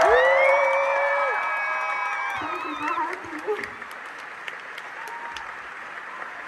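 An audience at a concert cheers and applauds with whoops and high shouts, loud at first and then thinning into scattered clapping as a voice speaks over it.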